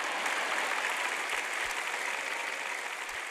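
An audience applauds during an Urdu talk on mental health, a dense steady patter of many hands clapping throughout, with a few low thumps, fairly close and with no talk over it.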